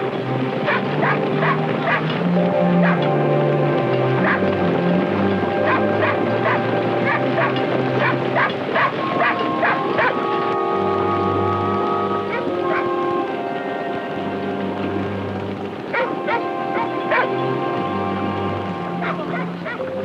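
Herding dogs bark repeatedly in bursts as they move a large herd, some yips and whines mixed in, over a steady low rumble of engine or water noise throughout.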